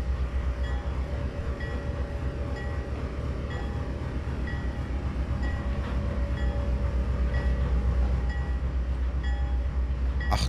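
A train slowing under braking in the Trainz 22 railway simulator on the Yellowstone Mountain & Central Railroad, a steady rumbling rolling drone with faint metallic tones, continuous and without voices.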